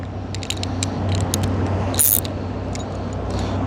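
Ratchet clicking on a strange skateboard set-up, quick rapid metallic clicks in bursts over a low mechanical hum, close and moderately loud.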